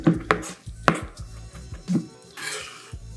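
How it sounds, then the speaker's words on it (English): A knife chops capers on a cutting board in a few sharp, close knocks spaced irregularly, followed by a brief scraping sweep. "Just gonna give these a chop"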